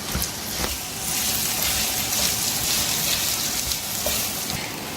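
Bell pepper sautéing in hot oil for a Brussels sprout rice dish, giving a steady close sizzle with a faint stirring texture and no voices.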